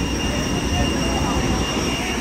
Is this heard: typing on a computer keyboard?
no